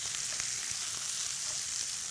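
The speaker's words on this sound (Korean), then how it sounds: "새우 겉면이 노릇하게 익기 시작하죠?" Shrimp and mushrooms sizzle in oil in a frying pan, a faint, steady crackling hiss from close by with no talking.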